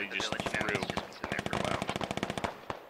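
Assault rifle fire in the military shooter Squad, rapid automatic bursts of sharp, evenly spaced shots, loud and close, pausing briefly before resuming, with a voice speaking faintly over it.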